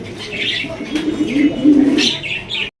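Large Nun pigeons coo in low, rolling bursts close by, with brief higher chirps over a steady background; the cooing swells and repeats for a few seconds before cutting off.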